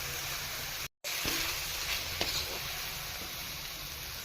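Potatoes, fenugreek leaves and tomatoes frying in a pan, a faint, steady hiss of sizzling broken once by a short gap, with a few soft clinks, and no talking.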